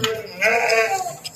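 A herd of goats on a foggy village road in Bagpat: one loud, drawn-out bleat close by, with fainter animal calls around it.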